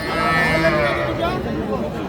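A thin, bony calf lows briefly at a busy Ranigonj cattle market, a short moo set against the chatter of people nearby.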